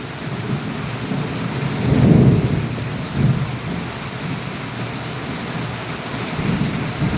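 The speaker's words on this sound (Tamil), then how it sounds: "இடியுடன் கூடிய கனத்த மழை பெஞ்சிட்டு இருக்கிறது" Thunder rumbles through steady heavy rain during a storm in Valliyur, with a louder roll near the two-second mark, a shorter one after it, and rain hissing on surfaces throughout.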